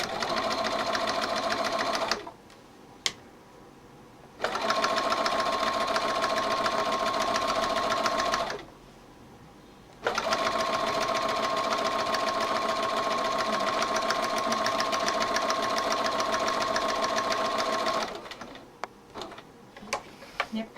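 A sewing machine runs a straight lock seam along a bag opening in three long bursts of rapid, even mechanical stitching, close and loud, separated by short pauses with faint handling clicks.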